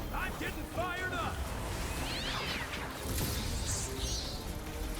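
A cat meows in the video game Code Vein II, a couple of short, rising calls mixed into game combat noise, with someone talking over it.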